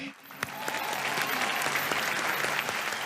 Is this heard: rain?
no